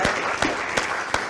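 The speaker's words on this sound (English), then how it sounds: "And have a round of applause for Melissa." An audience at a community drug-prevention talk applauds, a steady wash of clapping with a few sharper claps standing out at regular intervals.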